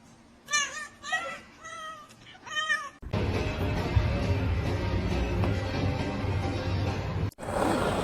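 A little kitten gives a quick run of high, short meows close by, then a loud steady noise takes over.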